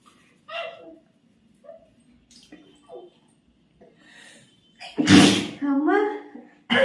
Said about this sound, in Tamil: தும்மல் வந்துகிட்டே தான் இருக்கு.